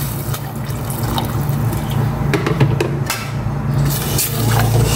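Hot water poured from a thermos into a cooking pot, a steady close splashing and trickling stream that runs throughout with no talk.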